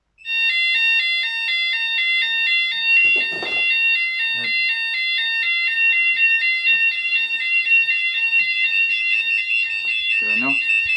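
A C-TEC fire alarm sounder goes off during a fire panel test, a loud continuous electronic tone pulsing between pitches, with brief knocks and handling sounds over it.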